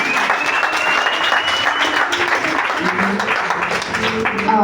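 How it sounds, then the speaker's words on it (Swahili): A church congregation claps in lively, continuous applause during a worship service, dense and fairly loud, with voices mixed in beneath the clapping. "Pigia Yesu makofi mazuri."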